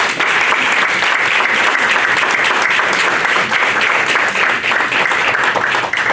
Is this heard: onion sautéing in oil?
no